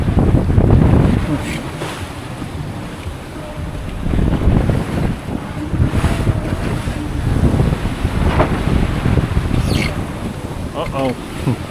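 Ocean waves about three metres high surge and crash around a moving sailboat crossing the Gulf Stream, with heavy wind buffeting the microphone throughout.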